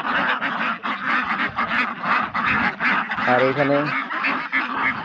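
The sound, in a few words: Pekin (Beijing) ducks quacking on a farm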